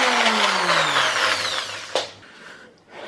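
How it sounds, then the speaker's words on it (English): Power drill whirring at high speed while fitting new shelves, pitch sliding down steadily as the bit bores in, then a brief knock and a quiet tail as the drill stops, close and loud with no talking. "Drilling time."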